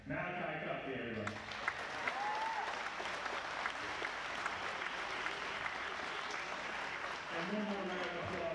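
A crowd at a boys' basketball game claps steadily and loudly throughout, with scattered cheers and whistles rising above the applause.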